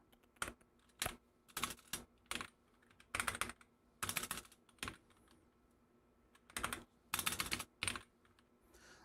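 Quiet, uneven typing on a small computer keyboard at a workbench, with clusters of quick keystrokes separated by short pauses, close and faint.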